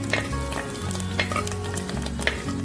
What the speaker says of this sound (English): When the mustard starts to splutter, add curry leaves.